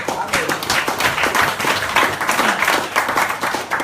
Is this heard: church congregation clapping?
yes